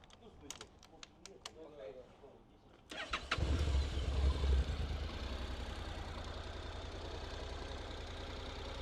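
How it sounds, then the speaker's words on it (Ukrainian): A few clicks, then a Honda CTX700 motorcycle engine cranks and catches, revs briefly, and settles into a steady low idle close by, with a voice talking. "Зараз заведу, послухайте, як працює."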